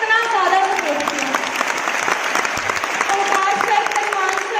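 An audience claps loudly at a Forever Living Products network marketing event, steady sustained applause from a crowd filling the room with scattered cheers.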